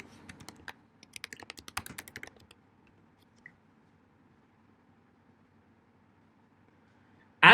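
Typing a search query on a computer keyboard: a quick close burst of key clicks for about two seconds, then near silence with a single faint tap and a sudden loud noise at the very end.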